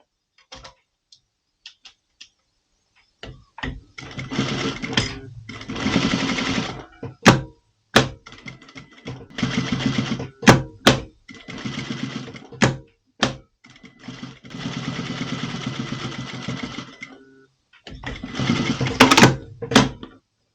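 A sewing machine stitching stretchy fabric for a women's top, running in bursts of rapid ticking with pauses and clunks between runs.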